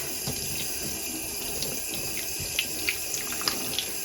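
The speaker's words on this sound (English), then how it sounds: "I'm just going to keep rinsing this until the water runs clear" Tap water runs steadily into a sink as dyed embroidery floss is rinsed, a close continuous gush with small splashes and drips on top and no talking.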